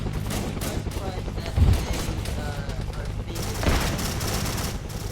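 Helicopter gunfire in the Arma 3 military game during an airbase raid: dense, continuous bursts of automatic fire with two louder impacts, set under faint voices.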